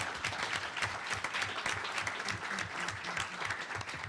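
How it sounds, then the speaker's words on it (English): An audience at a university event claps for students, a dense, continuous round of applause heard at moderate distance with no voices over it. "yeah, round of applause, all the students"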